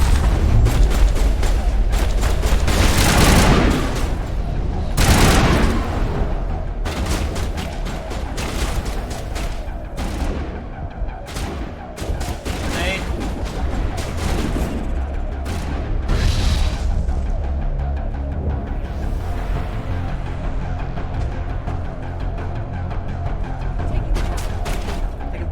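Heavy gunfire and booming blasts in Mass Effect Legendary Edition, loud bursts early on that settle into a continuous rattle of combat noise, with brief speech mixed in.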